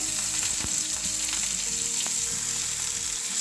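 Sliced onion sautés with mustard seeds and cumin in hot oil, a steady close sizzle with occasional sharper pops and crackles from the seeds, continuous with no voices.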